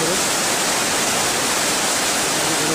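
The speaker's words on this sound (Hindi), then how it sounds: "बर्फ़ के नीचे पानी आ रहा" Meltwater flows beneath snow on the Amarnath pilgrimage trail, a loud, steady, close rushing hiss that continues unbroken throughout.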